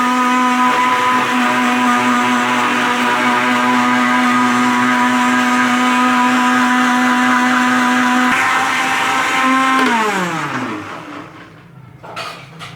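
Loud, steady electric blender whirring as it mixes sugar for Jam-e-Shirin sharbat, holding a constant motor tone for about ten seconds before winding down and fading out.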